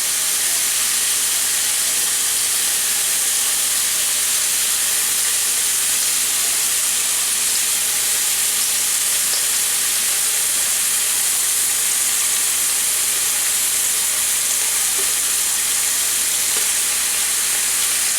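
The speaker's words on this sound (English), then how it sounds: "one of the things you can do is to stir the bacon around" Bacon frying and being stirred in a pan: a loud, continuous hissing sizzle that holds steady throughout, with no voices.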